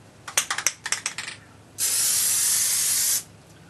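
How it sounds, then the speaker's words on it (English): A can of Plasti Dip rattles with a quick series of shaking clicks, then gives one steady, close spray burst lasting over a second before it stops. "otherwise it won't come out in a mist, it'll come out in little spatters"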